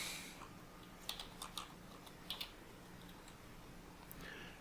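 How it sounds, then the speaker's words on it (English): Sparse clicks of a computer keyboard being typed on, a few quick keystrokes in small bursts, quiet and close, with soft room hiss between them. "you're going to type in"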